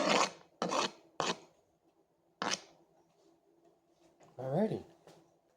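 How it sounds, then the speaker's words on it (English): Cut onion rubbed through scorpion pepper pieces, several short rasping scrapes close by in quick succession, then a pause and another scrape, with a voice talking softly in between. "I'm just kind of trying to get the onion to kind of rub along those pieces from the pepper."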